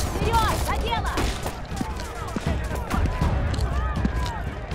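Rapid bursts of gunfire in the video game Homefront: The Revolution crackle over a dense, rumbling action soundtrack, with sharp cracks scattered throughout and steady low booming underneath.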